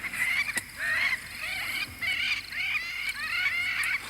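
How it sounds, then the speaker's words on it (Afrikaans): Lapwings call repeatedly in the open countryside, their thin rising cries recurring steadily at a distance over a constant low background hiss. "Hoor die kiebiete."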